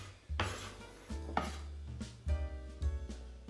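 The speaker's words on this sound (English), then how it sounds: "So I cut them in half and then just at an angle like that." A knife cuts cooked chicken strips on a board while making chicken fettuccine Alfredo, giving about four separate, close chopping strokes with brief pauses between them.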